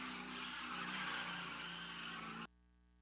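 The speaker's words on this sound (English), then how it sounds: "Kyle Rusty just letting this Mustang have it." A Ford Mustang drifts at a motorsports event, its tires screeching in a long loud skid under the engine roar for over two seconds before the sound cuts off abruptly.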